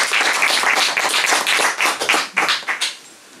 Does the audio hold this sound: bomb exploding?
no